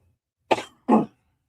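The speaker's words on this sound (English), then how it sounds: "Coughing a lot" Two close, sharp coughs in quick succession, the second slightly heavier, with silence around them.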